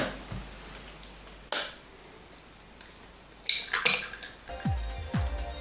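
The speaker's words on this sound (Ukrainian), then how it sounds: "ми беремо чашу блендера та вибиваємо сюди одне яйце" An egg gives a sharp crack against a hard blender bowl, then small clinks and a wet drop as the contents fall in, close and quiet, with no talking.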